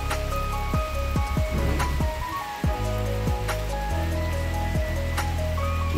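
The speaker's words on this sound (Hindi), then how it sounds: "हवा भी चल रही है बारिश के साथ साथ।" Steady rain pours down during a gusty wind at a town square in Shamli, India, a dense continuous wash of falling water and splashing with scattered sharper knocks and drips, loud and close throughout with no talking.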